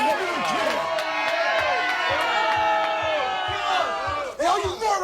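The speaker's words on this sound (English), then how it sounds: "Hey, all you morons can cheer all you want. You can laugh all you want." A 1985 talk show studio audience cheers and whoops loudly at wrestlers, a dense sustained roar of many voices with yelling on top and a brief dip near the end.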